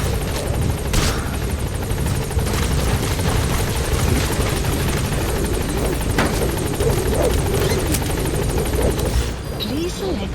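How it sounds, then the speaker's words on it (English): A support helicopter arriving in Metal Gear Solid V: The Phantom Pain, its rotor thudding steadily and loudly throughout, with scattered gunfire-like cracks and game voice lines over the engine noise. "Support helicopter has arrived."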